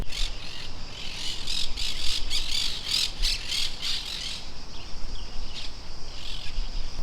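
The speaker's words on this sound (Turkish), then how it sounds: "Bir sürü yabani papağan var bu yeşillerden." Wild green parrots squawking outdoors at a campsite in Athens, Greece, a dense run of loud, harsh, repeated calls in the first half that thins toward the end, over a steady insect-like background hiss.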